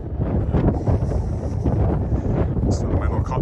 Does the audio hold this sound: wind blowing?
yes